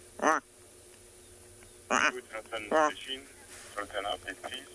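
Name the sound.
person imitating a lilac-breasted roller call, radio in background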